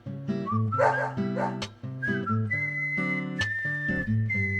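Dog barking and whimpering in the video game Deadly Premonition, a few short barks and whines over steady, loud game music with tonal whistle-like lines throughout.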